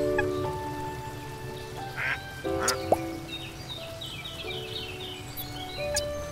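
Ducks in the farming video game Everdream Valley give a few scattered quacks over steady game ambience with soft rain-like patter and tonal background music, moderately close and fairly quiet.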